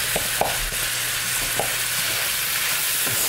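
Beef sizzles steadily in its own rendered fat in a pan, a dense continuous hiss broken by a few soft clicks of stirring, with no voices.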